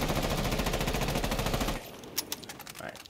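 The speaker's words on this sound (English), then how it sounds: "Alright, so there's Buck's recoil for you." Buck's rifle fitted with a muzzle brake in Rainbow Six Siege fires a rapid automatic burst of tight, evenly spaced shots for under two seconds, then a few scattered shell and impact clicks follow in a quieter tail.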